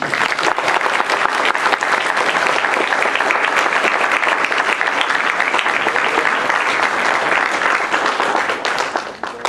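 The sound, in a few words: audience applause for the speakers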